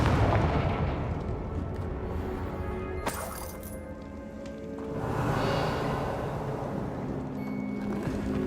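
Confringo spells blast in Hogwarts Legacy, heavy booming impacts with a sharp crackling strike near the middle, rumbling continuously at moderate level with a second swell of debris noise afterward.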